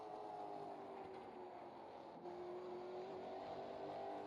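A late model stock car in the iRacing video game accelerates on the Hickory track, its engine giving a steady, sustained whine with a rising tone partway through, fairly faint and with no talking.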